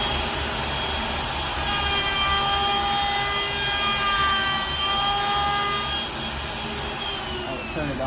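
Router cutting a wooden wine topper, a loud continuous high-speed whine and roar up close with shifting tonal pitches as the bit works the wood, steady for the whole stretch.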